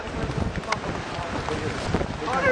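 Big ocean waves at a beach, heard as a rough, continuous wash of surf heavily buffeted by wind on the microphone, loud and close throughout the short stretch.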